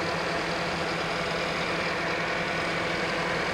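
A car engine idles steadily with its AC compressor pulley and idler pulley spinning, a constant close mechanical hum and whir without speech.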